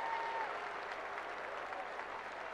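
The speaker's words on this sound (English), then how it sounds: "There's a wonderful round of applause comes out around the stadium." Stadium crowd in Canberra applauding an injured player: a steady, broad wash of clapping from a large crowd, held evenly throughout with a faint background tone.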